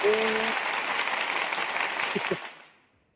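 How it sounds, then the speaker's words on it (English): Applause from an audience, a dense steady patter of clapping that holds for a couple of seconds and then fades away, with a faint voice-like tone at the start. "I appreciate the applause."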